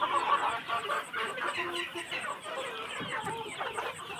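Desi chickens on a farm clucking and chattering close by, overlapping short calls in an irregular stream, with a faint higher repeated chirping in the background and little or no talk.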